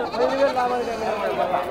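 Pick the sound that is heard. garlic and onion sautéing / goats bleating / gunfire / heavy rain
goats bleating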